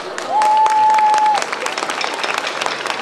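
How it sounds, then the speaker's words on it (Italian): Steady clapping from a crowd at a 2017 torchlight procession, welcoming drummers, dense and fairly loud throughout, with a sustained whistle-like tone over the first second. "ma invece li accogliamo con un grande applauso."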